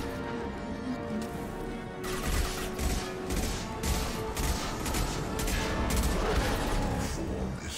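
A Mass Effect 2 battle erupts into dense, rapid gunfire after a quieter start, with overlapping bursts and impacts piling up close and loud. A faint voice comes through under it.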